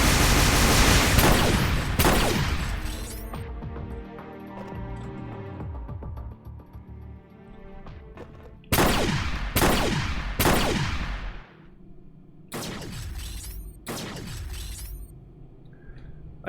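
Turret gunfire in Fallout Equestria Remains, inside a military base: loud broadband bursts of shots, a long burst at the start, then a quieter stretch, then several sharp separate volleys that ring out and decay. No one speaks.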